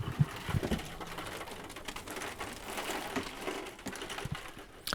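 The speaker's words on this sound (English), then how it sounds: "It's raining outside." Rain falls outside, a soft, continuous patter with a few louder drips and taps, heard from indoors.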